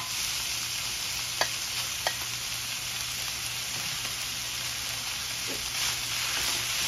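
Corn is stirred into beef, tomato and vegetables frying together for taco soup, giving a steady broad sizzle with a few light utensil taps and scrapes against the pot, no voices.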